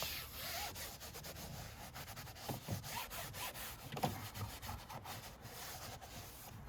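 A scrub pad rubs across textured car interior trim in a dirty car, making close, repeated scratchy scrubbing strokes with a faint background hum and no talking.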